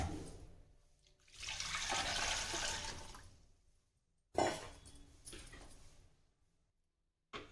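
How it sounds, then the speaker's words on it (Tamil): Water is poured from a vessel into a mixer jar while making vegetable soup with pumpkin and walnuts, two splashing pours with a pause between, close and fairly quiet, no talk. "இப்போ நம்ம எடுத்து வச்சிருக்கிற தண்ணி இருக்கு இல்லைங்களா அதையே நம்ம மிக்சிக்கு சேர்த்திக்கலாம்"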